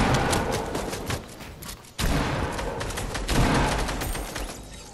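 Rapid bursts of Fortnite gunfire in a late-game arena match, dense volleys of shots cutting out briefly before resuming, fairly quiet and with no talk.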